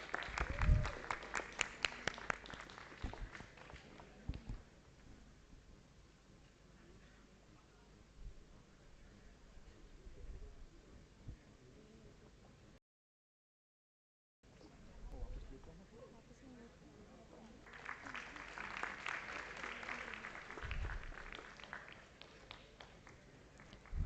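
Audience applause at a felicitation ceremony during an event: steady clapping from a crowd, loud at the start, dying down, then swelling again after a brief silence.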